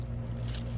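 Ford truck keys jangle close by in a short metallic rattle over a low steady hum, with no talking.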